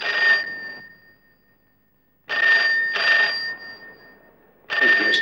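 An old telephone bell rings loud and close in a film scene, sounding in three bursts separated by pauses, the last two coming close together, with no talking over it.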